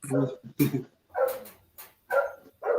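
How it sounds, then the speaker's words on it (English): A dog barks a few times in short bursts somewhere nearby, mixed in with someone talking over it. "Yeah, I hear a dog."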